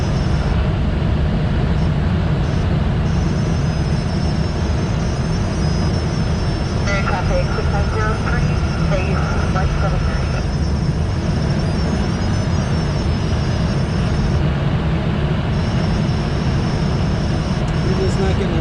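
A small airplane's engine drones steadily inside the cabin while the aircraft is on short final to runway 17. The loud, constant hum runs throughout, with voices talking over it.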